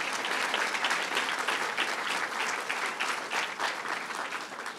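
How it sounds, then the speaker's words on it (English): Sustained applause from a sizeable audience at a governor's announcement in Hempstead, an even, dense wash of clapping that holds steady throughout without voices. "And let's give them all a round of applause."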